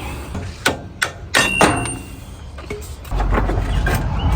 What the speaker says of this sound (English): These 2 screws, you're probably gonna have to hammer them out.